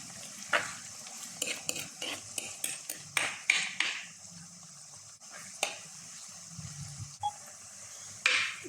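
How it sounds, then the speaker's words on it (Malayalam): A utensil stirs garlic, ginger and onion sautéing in a pan, sounding as repeated metallic clinks and scrapes over a low sizzle at close range, with no voices. "ഒത്തിരി മൂക്കണ്ട എന്നാലും നന്നായിട്ടൊന്ന് വഴന്ന് വരണം അതുവരെ നമുക്കൊന്ന് ഇളക്കി കൊടുക്കാം"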